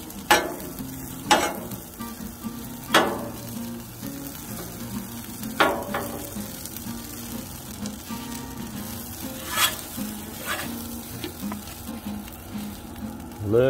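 An omelet sizzles in an omelet ring on a Blackstone griddle, a close, steady crackling fry broken by sharp scrapes and taps of a spatula against the griddle top.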